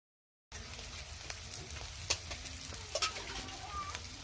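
Rohu fish being stirred as it fries in a pan over a clay stove, a steady close sizzle with occasional sharp clicks and scrapes of the spoon, no talking.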